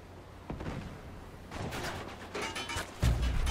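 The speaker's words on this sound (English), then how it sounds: "someone's shooting at me" Gunfire in an Uncharted 3 multiplayer match: several sharp shots at about half a second, 1.5 and 2.4 seconds, and a heavier close burst near the end, with no voices.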